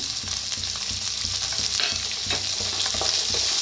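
Fresh green peas frying with onion in hot oil, giving a loud, steady sizzle that runs without a break and carries a faint rhythmic low rumble beneath it.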